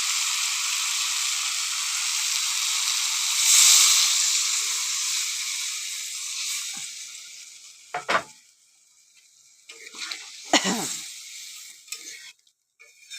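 Water goes into a pan of frying spices: a steady sizzle runs for several seconds, then sharp bursts and scrapes follow, with sputtering dropping to quieter bubbling in between.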